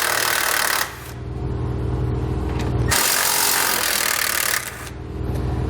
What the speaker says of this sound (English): Then we're going to remove our compressor bolts here at the front.